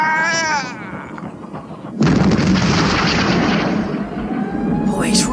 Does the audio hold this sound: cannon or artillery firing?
yes